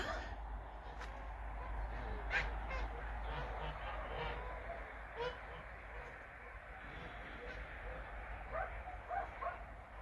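Domestic geese honk repeatedly at a moderate distance, with scattered calls over a low rural outdoor rumble and a voice speaking now and then in the evening.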